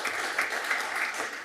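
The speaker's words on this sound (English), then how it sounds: "Yes, you can clap for that." Audience at a city council meeting clapping for the fire chief, a short burst of steady applause from a room of people, moderately close and continuous throughout.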